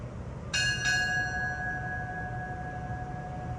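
Two quick strikes of a ship's bell during a US Navy retirement ceremony, clear ringing metallic tones with a long, slowly decaying sustain in a quiet room.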